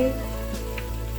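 Asparagus sautés in butter in a pan, giving a soft, steady sizzle that holds evenly for a brief moment with no voices.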